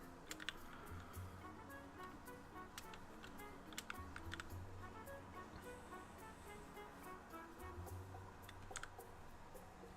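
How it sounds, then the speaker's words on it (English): Computer keyboard typing picked up by a nearby microphone: a steady stream of quiet clicks and key taps in irregular bursts through the whole stretch, with low background hum and no talking. "Apologies if you can hear my keyboard. My mic is actually pretty close to it."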